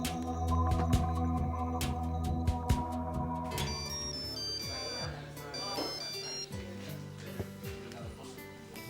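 A melodic phone ringtone plays on a call to Roni, repeating its tones for several seconds against faint background sound.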